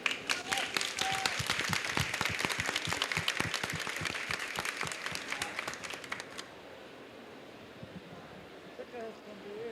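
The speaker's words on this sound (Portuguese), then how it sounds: "eu gostaria de pedir também uma salva de palmas" Applause from an audience at an event honoring Indigenous representatives, a dense patter of clapping that holds steady for several seconds, then cuts off abruptly and leaves faint room noise.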